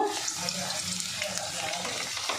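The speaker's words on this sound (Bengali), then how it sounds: "আমি ভাজবো। একটু লবণ দিয়ে দেব।" Vegetables fry over medium heat in a pan with a little salt for an all-vegetarian dish, a dense, close, continuous crackling sizzle with light stirring scrapes.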